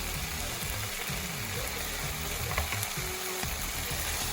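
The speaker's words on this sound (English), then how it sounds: "I'm gonna stir." Cooked meat in tomato sauce sizzles steadily in a pan as it is stirred, with a dense close crackle and occasional scraping clicks of the utensil, no talking.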